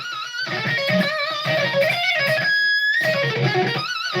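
A distorted electric guitar plays a riff of sustained, buzzing chords and bent notes, up close and without any talking.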